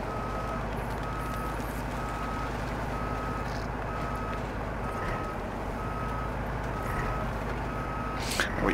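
A heavy truck in the off-road driving game MudRunner backs up, its reversing alarm beeping in a steady repeated pattern over a loud, constant engine drone.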